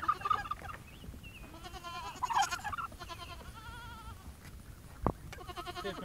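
Goats bleat several times among other farmyard fowl calls, moderately close, with a sharp knock near the end, as they are offered a spoiled corn cob.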